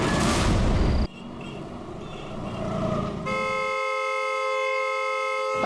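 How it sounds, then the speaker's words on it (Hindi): After a burst of rough noise, a car horn blares in one long, unbroken, steady tone for the last couple of seconds, loud and close in Nashik, Maharashtra. "अरे कौन है ये नॉन स्टॉप हॉर्न बजा रहा है?"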